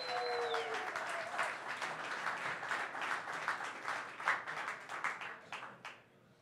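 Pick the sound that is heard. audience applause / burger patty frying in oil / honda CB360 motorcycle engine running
audience applause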